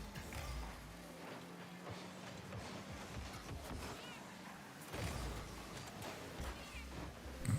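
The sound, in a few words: kitty engine sound in the video game Rocket League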